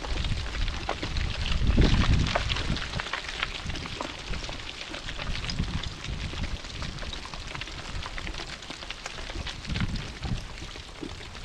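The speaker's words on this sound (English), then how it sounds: "The wind whipped it up and all the rocks were coming down." Strong wind roars continuously across a riverside camp on the Big Salmon River in the Yukon during a sandstorm, a dense gusty rush with a louder buffeting surge early on and no clear falling rock impacts.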